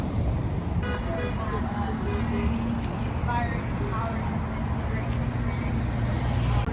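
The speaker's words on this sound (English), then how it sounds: "All right, we're getting some honks." Car horns honking from drivers passing along Hollywood Boulevard at a street protest, several short toots heard over steady traffic noise and crowd chatter.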